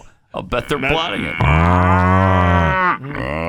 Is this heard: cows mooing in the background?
yes